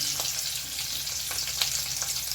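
Ginger, onion, garlic and cashews fry in hot oil in a pan, a soft continuous sizzle with a few faint stirring clicks, close and without talk.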